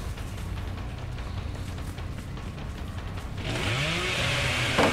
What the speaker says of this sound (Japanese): 壊せるんだよね、 チェーンソーなら。